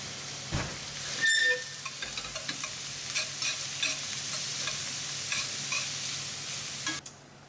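A steady, crackling sizzle of onions and prosciutto frying in a pan for German Kässpätzle, with a few clinks and stirring scrapes near the start, no talk.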